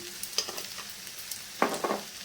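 Banana flower dal with ghee being stirred and fried in a pan, producing a faint, steady sizzle broken by a few scraping stir strokes, with two louder scrapes near the end and no talking.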